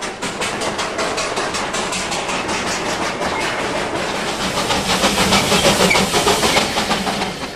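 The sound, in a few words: Darjeeling charter steam train climbing into the hills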